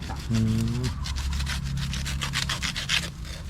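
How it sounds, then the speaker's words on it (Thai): Rapid rhythmic rasping strokes of a saw cutting through a sweet bamboo stem, fairly close, with a brief voice at the start and low background hum. "เนี่ยครับเลื่อยไปเลยนะครับ"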